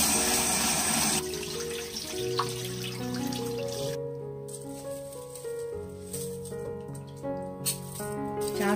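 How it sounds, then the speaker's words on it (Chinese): Rice being rinsed by hand in water, with a brief gush from a running tap at first, then soft sloshing, swirling and light grain rattles, close and fairly quiet. "首先把大米淘洗一下"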